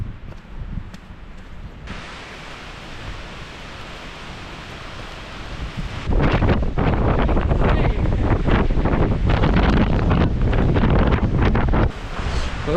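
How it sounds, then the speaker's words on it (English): Strong storm wind outdoors at Nant Rhys in Wales buffets the microphone in heavy, roaring gusts, growing harsher and louder partway through, with no voices heard. "It's been really, really windy"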